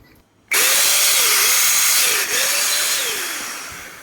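Repaired vacuum cleaner motor switched on for a test, starting abruptly with a loud high whine that holds steady for several seconds and then slowly winds down, close up and alone.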